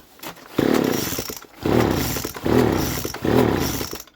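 A Poulan leaf blower fitted with a modified exhaust is run at full throttle from about six feet away, its loud raspy two-stroke roar rising and dropping in four repeated throttle bursts.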